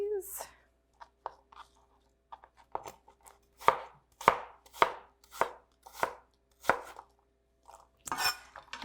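Apples being chopped on a cutting board, a series of sharp, close knife thunks at an irregular pace, growing denser midway and ending with a louder clatter.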